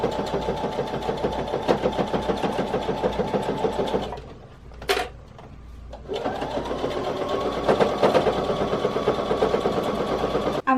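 A sewing machine stitches the final row of a Kimberbell mini quilt, a fast, even mechanical chatter up close that stops for a moment, gives a brief whir, then starts running again.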